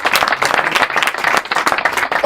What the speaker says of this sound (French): on peut applaudir madame et monsieur pour cette présentation.